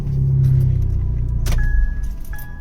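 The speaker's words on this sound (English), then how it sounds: "Disarm tone, vehicle starts." A Fiat Abarth 595 with a keyless immobiliser fitted starts up: a loud engine crank and catch settling into a low idle hum, followed by a short bright electronic tone and then a second one.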